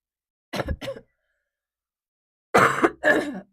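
A man coughs and clears his throat in two separate pairs of harsh, rasping bursts, the second pair louder and longer, with silence between them.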